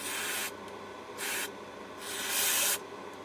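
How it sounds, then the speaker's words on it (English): Three short hissing bursts from an aerosol can of brake cleaner, each about a third to half a second long, close up with brief pauses between. "I find a little spray of brake cleaner under its arse"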